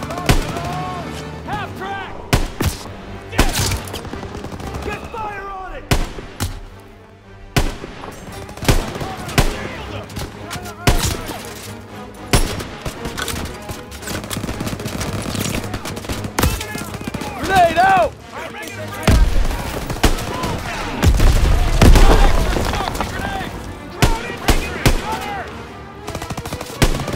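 Gunfire from a Call of Duty: World War II campaign battle in a factory setting, loud rapid machine-gun bursts and rifle shots throughout, with shouted voices mixed in and heavier booms near the end.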